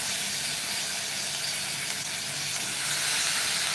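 Cleaned cauliflower dropped into hot oil with spiced masala for a restaurant-style cauliflower bhaji, giving a steady, even sizzle and hiss in the pan with no speech.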